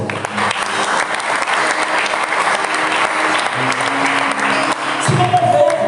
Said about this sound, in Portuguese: Aplauda pessoas